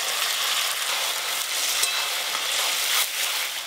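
Taro greens sizzle and hiss loudly in a pan as they are stirred, a close, continuous frying sound with scraping stir strokes and no talk.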